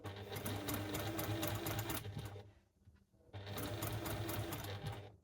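A sewing machine stitches quilt binding in two long, steady runs of rapid needle chatter, broken by a short pause near the middle. The machine is close and fairly loud, with no talking.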